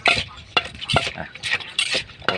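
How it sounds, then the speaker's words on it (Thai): Papaya salad with pork sausage pounded in a mortar, a series of sharp wooden thuds about every half second, close up and without talk. "ตำให้เข้ากันได้ครับ"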